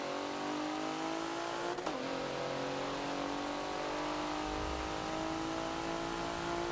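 Racing engines in the Forza video game at Hockenheimring, a steady loud engine drone with rising and falling pitch as a Porsche race car passes close by.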